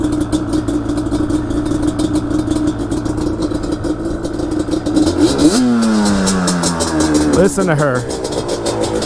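A kick-started Yamaha Banshee ATV engine idles with a rough, steady two-stroke burble under a man's speech, then gives two sharp throttle blips that rise and fall in pitch.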